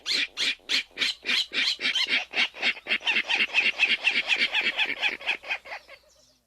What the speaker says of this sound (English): they also do a grunting call, which to me sounds a little bit like a pig in the wetland